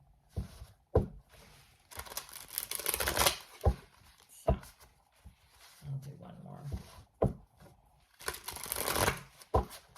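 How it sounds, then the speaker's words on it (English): Cards from a tarot deck bridge-shuffled by hand, with brief crisp riffling bursts and soft slides between them, close up and mixed with someone talking. "I will do one bridge shuffle just to show"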